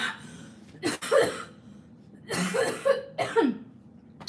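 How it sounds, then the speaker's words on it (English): Several harsh coughs come in three short bursts separated by pauses, close and fairly loud, with a faint hum underneath. "I still have a cough."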